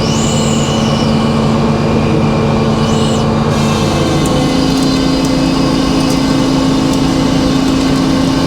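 A sawmill cuts a pine log into slabs, a loud continuous engine and blade drone with steady humming tones, a few high squeals early on and a shift in pitch midway as the cut proceeds.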